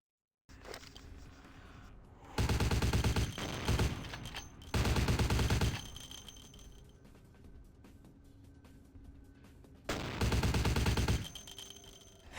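Gunfire in Vampire: The Masquerade - Bloodlines comes in three loud rapid-fire bursts, each lasting about a second, separated by quieter clicking and mechanical handling sounds.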